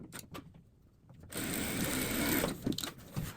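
A sewing machine stitches a patchwork block for a cushion cover. A few quiet mechanical ticks come first, then a loud steady motorised whir runs near the microphone, with small bumps toward the end.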